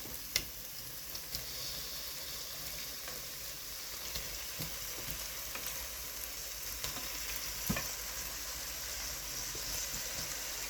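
Chopped rabbit meat sizzles in a hot pan for a village-style rabbit gravy, a soft, steady crackle with scattered sharp pops and the occasional scrape of stirring.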